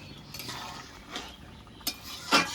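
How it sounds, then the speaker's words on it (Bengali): A spoon stirs fried soybean curry with ridge gourd and potato in a pan, giving a few scattered scrapes and clinks against the metal over a faint sizzle, with no talk. "ভেজে রাখা সোয়াবিনগুলো দিয়ে দিয়েছি এবার একটু নেড়ে ছেড়ে নেব"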